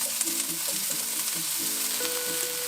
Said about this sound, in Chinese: 放入橄榄油后，继续放入蒜头，还有洋葱，做一点爆香。